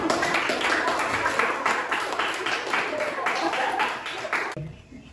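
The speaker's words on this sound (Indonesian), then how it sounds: "Anak-anak, bagus sekali, tepuk tangan." Schoolchildren clapping in a classroom during a physics lesson on Coulomb's law, a steady run of many hands beating in a fairly even rhythm for several seconds before stopping abruptly.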